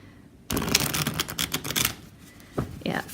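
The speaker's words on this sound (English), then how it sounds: "Let's take a riffle as well, just for those of us that like to riffle." Lo Scarabeo tarot cards are riffle shuffled up close, a rapid crisp flurry of flicking card edges followed by a pause and a couple of shorter bursts as the deck is squared.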